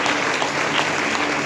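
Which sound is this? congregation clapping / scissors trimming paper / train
congregation clapping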